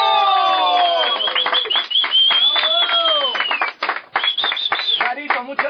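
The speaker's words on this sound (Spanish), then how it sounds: "¡Un aplauso para Carito! ¡Bravo!" Cheering and shouting from a radio-show audience for Carito, with excited voices and whoops riding over scattered clapping, loud and close, rising and falling in bursts.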